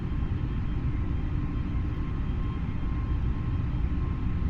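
Airliner jet engines at climb thrust in Microsoft Flight Simulator 2020, an EasyJet flight from Luton to Nice, give a steady, loud, broadband roar that drones on evenly throughout.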